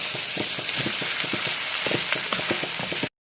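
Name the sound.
cooked noodles tossed and stir-fried with vegetables in a pan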